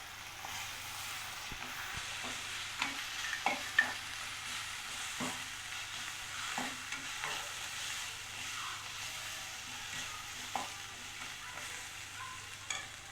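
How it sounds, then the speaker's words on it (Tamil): Onion-tomato masala with chili powder for fried idli sizzles and fries quietly in a pan while a spatula stirs it, with intermittent scraping knocks over a soft, steady hiss. "எல்லாம் நல்லா வதங்கிடுச்சு"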